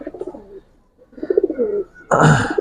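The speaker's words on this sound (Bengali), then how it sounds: "এটা কিন্তু সাপচিলা কবুতর" Giribaz pigeons of the Sapchila type coo in low, throaty repeated phrases close by, then a sudden loud, broad rush that may be wings bursts out near the end.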